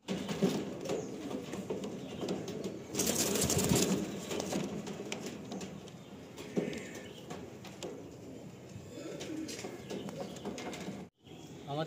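Madrasi pigeons cooing near and clear, with a burst of louder activity and wingbeat-like flutter as the birds are released, over steady outdoor background.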